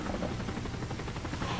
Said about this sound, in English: Just wait for the helicopter.